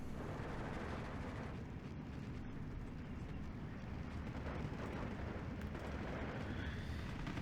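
Artillery fire in the World War II strategy game Steel Division 2, heard as a steady, dense rumbling barrage with distant booming blasts rolling continuously throughout, loud and unbroken with no talking.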